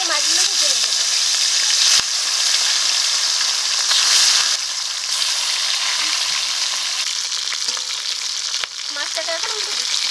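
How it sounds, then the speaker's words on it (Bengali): Fish frying in oil, a steady loud sizzle and hiss that fills the whole clip, with brief bird chirps faintly in the background. "এই তেলে মাছগুলো ভেজে নেব"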